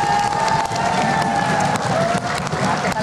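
A studio audience at an Indonesian vice-presidential pre-debate broadcast applauds for candidate pair 02, a steady wash of crowd clapping and cheering with a voice faintly mixed in.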